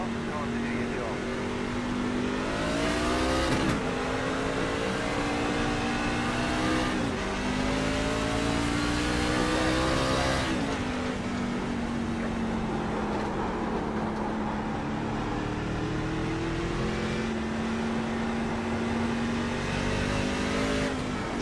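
Race cars in the iRacing sim at Concord Speedway roar steadily as they accelerate on a restart, engine notes rising and falling through gear changes over about twenty seconds, with someone talking over the engines.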